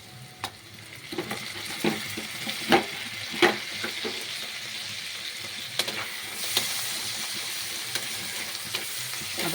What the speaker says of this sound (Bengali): আদা রসুনটা দিয়ে ভালো করে কষবো।